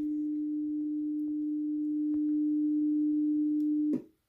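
A steady low sine tone plays from the front left speaker of an Axiim Link and Platin Monaco 5.1 wireless system, humming for about four seconds and then cutting off abruptly, with no other sound around it.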